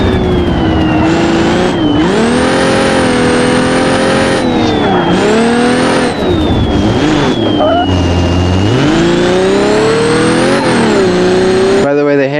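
A video-game car on off-road tires revs hard and holds a high, wavering engine whine while drifting, with pitch sweeping up and down through gear changes and faint tire squeal, loud and continuous throughout.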